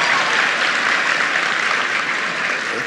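An audience gives a big round of applause for Tennessee governor Bill Haslam at a political speech event, a loud, dense, even wash of clapping throughout.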